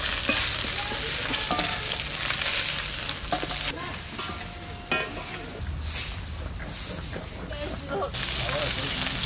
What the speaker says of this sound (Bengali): মাছ ভাজা হয়ে গেছে, এবার তুলে নিচ্ছি